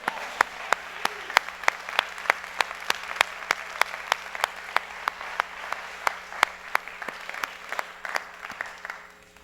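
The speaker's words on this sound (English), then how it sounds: "I would like to give her another round of applause" Sharp, evenly spaced claps ring out over a murmuring crowd at an International Day of Peace celebration, a small audience applauding at a steady rhythm.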